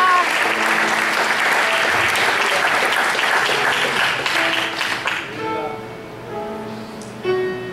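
A large church congregation applauds loudly and steadily during a sermon, with a voice and music under the clapping before it fades toward the end.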